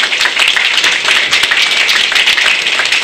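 An audience at a village carnival celebration in Szczawin claps in a loud, dense, continuous round of applause, close and sustained throughout with no talk over it.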